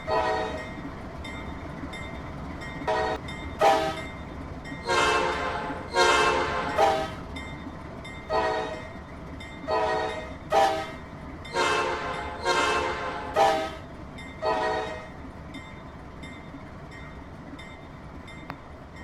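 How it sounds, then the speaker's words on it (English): A train horn sounds from the cab of a moving train in a series of short and long blasts, loud and near over the steady rumble of the train. "Let's go ahead and give them all a whistle or horn one more time"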